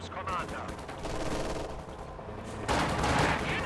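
Light machine gun fire from infantry in Company of Heroes 2, a real-time strategy game battle between OKW, Wehrmacht and Soviet forces: dense rattling bursts over a constant battle din, louder and brighter toward the end.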